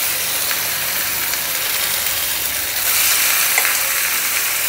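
Marinated chicken hits a pan of cooked-down tomatoes and onions for Kerala-style pepper chicken, a steady, loud frying hiss that swells louder and fuller midway as the meat goes in, with faint stirring clicks.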